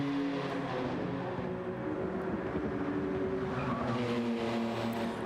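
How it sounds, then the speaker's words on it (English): Continuous roar of racing car engines in a sim racing video game at Spa, steady and loud, with droning overlapping motor tones throughout and no talking. "Let me turn down the car noises a tiny bit then"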